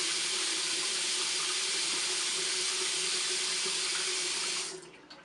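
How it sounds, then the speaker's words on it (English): Water runs from a shower to rinse off a face mask, a loud steady close hiss and splash that continues evenly, then cuts off near the end, leaving a faint trickle. "Now I'm just going to go ahead and rinse this off"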